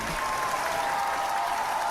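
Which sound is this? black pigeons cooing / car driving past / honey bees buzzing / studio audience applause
studio audience applause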